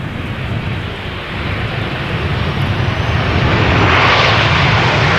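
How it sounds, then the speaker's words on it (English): A KLM Boeing 737-900 passes Amsterdam Schiphol on arrival, its jet roar a broad, steady rush that swells gradually louder as it draws nearer, with no voices over it. "We have another 737 from KLM coming this way, arriving from Copenhagen."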